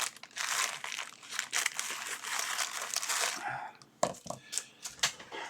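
Crinkly plastic packaging crackles and tears as an item is snipped free, a dense rustle for a few seconds, then scattered sharp snips and crinkles.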